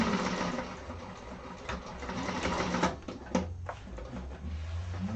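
A sewing machine stitching a strengthening seam on a satchel lining runs in a steady, close, rapid needle rattle, with a short pause and a clack partway through.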